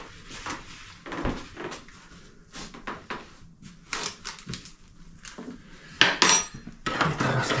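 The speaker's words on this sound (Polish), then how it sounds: "Wszystko mieszam" Teaspoon clinking and scraping against a bowl while mixing waffle batter, with irregular taps and scrapes close by and a few sharper clatters near the end.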